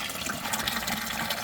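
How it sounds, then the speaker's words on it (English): Water being pumped from the reservoir of a Mars Hydro Air Cube 420 hydroponic grow system during its fill cycle, a steady close rushing and gurgling flow with no talk. "water is now being pumped from the reservoir"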